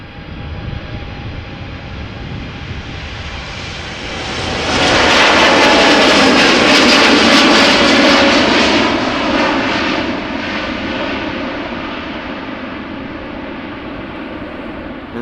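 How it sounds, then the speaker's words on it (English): An American Airlines Boeing 787-8 Dreamliner departs Amsterdam Schiphol, its jet engines holding a steady roar that swells to a loud peak midway and then eases off slightly, with no voices. "So American Airlines flight 203, Boeing 7878 Dreamliner outbound to Philadelphia."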